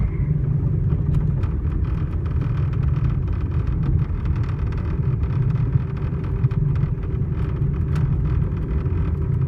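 An old, basic small car's engine runs steadily, a low, even rumble that holds without change throughout, close up and with no voices.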